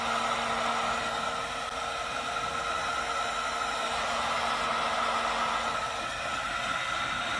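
A steady, loud blowing hiss from a heat gun shrinking heat-shrink tubing on trailer plug wires, continuous and unbroken for several seconds with no talk.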